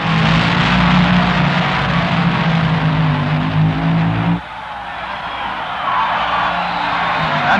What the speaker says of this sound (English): Jim Bunker from Russell, Kansas, a Chrysler Powered Rail in the far lane.